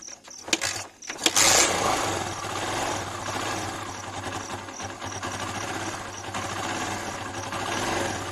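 A Kawasaki Barako 2 motorcycle engine, freshly tuned up, idles in neutral after a couple of sharp knocks at the start, settling into a steady, even low putter close by.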